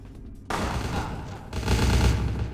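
Close, loud bursts of rapid gunfire in a vampire video game, dense rattling volleys that start abruptly and swell again partway through, with no talking over them.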